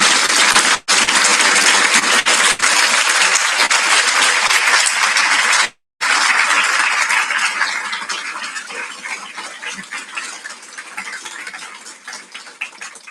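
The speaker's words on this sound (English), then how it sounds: "So let me ask you to applaud him very warmly from the bottom of our hearts." A crowd at a medical lecture claps loudly and steadily, then pauses briefly and resumes before the applause gradually fades away.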